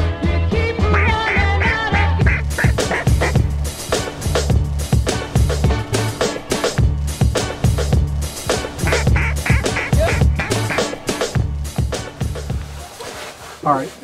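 Ducks quack repeatedly from open water in Mississippi hunting country, with many overlapping calls, fairly near and loud, and someone talking throughout.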